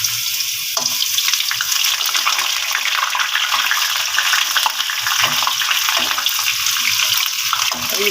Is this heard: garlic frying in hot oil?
yes